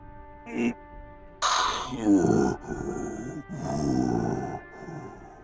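A dragon breathing roughly in a fantasy mobile role-playing game, heavy rasping grunts and groaning breaths that come in several uneven bursts, loud and close.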